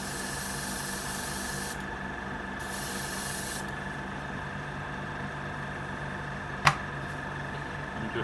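Steady airbrush-style hiss laying a base coat of paint on a 1/6 scale Wonder Woman figure, continuous with two brief drops in the spray and a single sharp tap near the end, over a constant hum.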